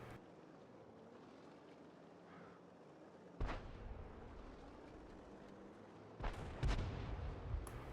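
Artillery fire in the World of Tanks game: a few sharp, booming blasts ring out at intervals over a faint steady rumble of ambient background, loud against otherwise quiet gameplay.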